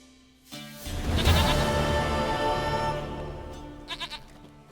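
A goat in The Witcher 3 gives one long, wavering bleat, loud and close, then a short burst of quick bleats near the end, with no talk over it.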